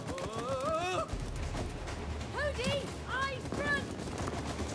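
Rapid video game gunfire from It Takes Two, bursts of shots in quick succession under excited talking voices, fairly faint in the mix.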